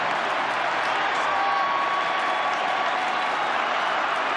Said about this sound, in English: The applause rings out around Amy Park.